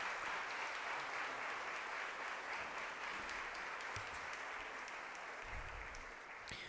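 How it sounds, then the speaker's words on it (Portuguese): A church audience applauds at a solemn session celebrating Children's Bible School educators: a steady, dense wash of many hands clapping that holds evenly throughout, with no talk over it. "Uma salva de palmas para todas vocês."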